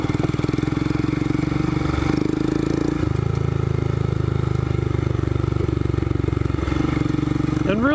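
Royal Enfield Scram 411 motorcycle pulling steadily in second gear over loose rocky ground, a continuous close engine drone with slight dips in pitch around midway and a rider's voice faintly over it.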